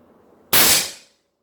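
A COBRA VX RAS automatic air rifle, fired in semi-auto with a pause, lets off a single sharp, loud crack that decays quickly into silence after a quiet lead-in.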